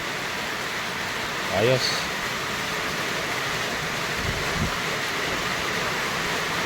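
Steady, even hiss of rain falling on a farm runs throughout, with a brief spoken word near the start.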